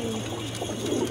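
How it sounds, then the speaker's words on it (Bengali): A pair of pigeons coo softly for a brief moment, close by, with a low murmuring tone and no talk. "খুব সুন্দর এক জোড়া কবুতর"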